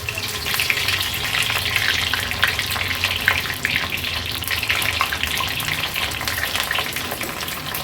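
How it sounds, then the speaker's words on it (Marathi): Raw jackfruit pieces deep fry in hot oil with a dense, continuous loud bubbling sizzle that holds steady throughout, no voices over it. "आता लगेचच या डीप फ्राय करून घेणार आहोत।"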